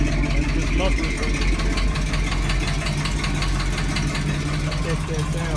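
An Oldsmobile 455 V8 idles loudly and steadily nearby, a dense mechanical drone with a rapid ticking knock running through it, and a voice talks over the engine.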